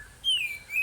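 A green leafbird (cucak hijau) gives a clear, thin whistled chirp, a single sliding note followed by a second brief rise, close and alone against a quiet background.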